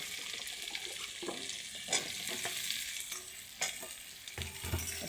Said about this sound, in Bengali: আলুটা দিয়ে একটু ভালো করে ভেজে নেব।